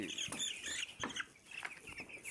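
Poultry chickens on a farm on a cool day cluck and chirp faintly, scattered short calls with higher peeping notes over quiet background.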